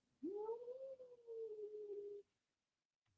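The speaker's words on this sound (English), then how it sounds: "there's a cat outside the door" One long, drawn-out cat meow, faint and muffled as if from the other side of a door, followed by quiet.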